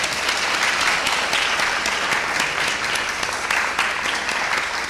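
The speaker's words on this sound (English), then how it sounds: "Let's first of all give a hand clap for our guests." Audience at a transgender panel discussion gives steady, dense applause for the guests, continuous clapping filling the room without pause.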